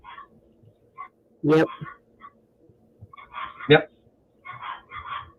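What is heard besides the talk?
small dogs barking outside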